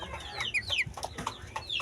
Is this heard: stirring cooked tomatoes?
no